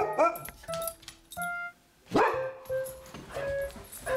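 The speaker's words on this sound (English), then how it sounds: "And he'll bark and run towards the door." A husky barking, yipping and whining as someone comes to the door, loud and close, with several sharp barks mixed with higher vocal yowls in an excited irregular burst.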